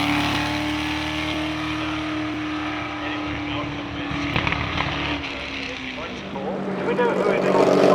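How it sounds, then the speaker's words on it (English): Engine drone of a four-wheel-drive Brabham Quattro racing car on the Shelsley Walsh hill climb, a steady, sustained tone that changes pitch as it passes, growing louder at the end, with someone talking over it. "Here he's let loose in the difficult ex-Peter Blackstone 4-wheel drive Brabham Quattro"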